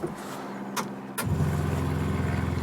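A car left unused for two months ticks and clicks softly as its fuel pump primes, then a steady low electric hum and buzz settles in, quiet and close with no talking.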